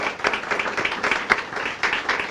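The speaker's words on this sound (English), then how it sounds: "let's give him another round of applause" An audience claps at a city grand opening ceremony in Linden, a continuous patter of hands at moderate loudness over a couple of seconds.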